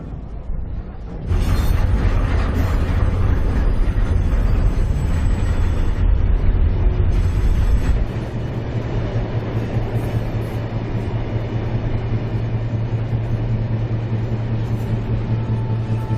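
A train crosses the Sahara desert in Mauritania, giving a loud, steady, close rumble of rolling wagons that swells after the first second and then holds an unbroken droning roar with a low hum to the end.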